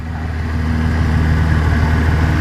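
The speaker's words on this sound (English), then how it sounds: "I think my bike's revving a little high," A motorcycle engine runs steadily at fairly high revs, a loud, even mechanical drone with a low throbbing hum throughout.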